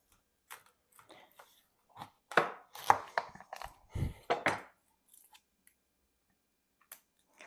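Garlic and onions being chopped with a knife on a board for marinara, heard as irregular clusters of close, crisp knife strikes separated by short pauses.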